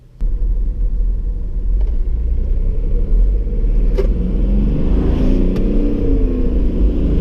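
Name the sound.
2006 Smart CDI car accelerating at full throttle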